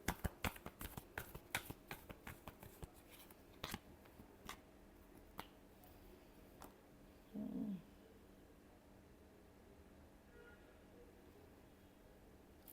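Tarot cards being shuffled by hand, a run of quick sharp riffling snaps near the start, then sparse taps and a brief soft rustle, close and quiet.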